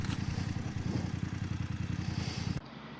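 BMW F750GS adventure motorcycle with a detuned 853cc engine pulling up and stopping; a loud, close, steady chugging engine note with clattering pulses that drops abruptly to a quiet idle near the end.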